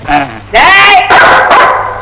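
A dog gives several loud, close barks and yelps in quick succession, with voices talking over and between the calls.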